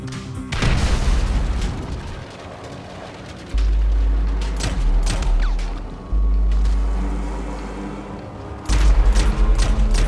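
Frag grenade blasts and gunfire in GTA V, several deep booming explosions spaced a few seconds apart with crackling shots and debris between them, loud and close, with no speech.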